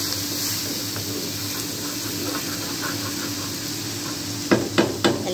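Fried rice seasoned with fish sauce sizzles steadily in a pan, followed by a few sharp scraping knocks of a utensil stirring near the end.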